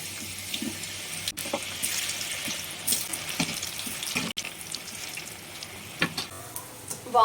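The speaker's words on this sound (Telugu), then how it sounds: "ఇప్పుడైతే ఫ్రెంచ్ ఫ్రైస్ అయితే వేగుతున్నాయి అనమాట" French fries frying in hot oil give a steady, moderate crackling hiss with scattered small pops and no talking.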